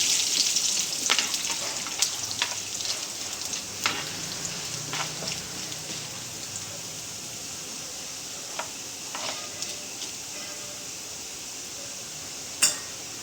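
Cumin seeds frying in oil in a pan, a steady close sizzle and crackle with a few sharp pops and faint clinks, no talk.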